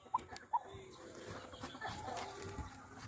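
Native chickens kept outdoors at a rural Philippine farm clucking faintly, with two short distinct clucks early on and then low scattered farmyard noise.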